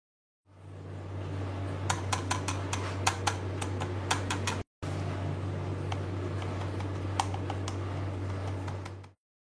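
Rapid plastic clicks and body rattles from an Armaggeddon Scorpion 3 budget gaming mouse over a steady low hum, a bursty run of taps followed by sparser clicks, close up and light.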